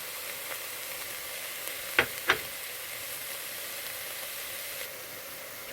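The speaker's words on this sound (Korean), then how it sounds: "표고버섯까지 넣고 볶았고요" Shiitake mushrooms stir-fry with vegetables in a pan, a soft continuous sizzle with two sharp scraping clinks of a utensil midway.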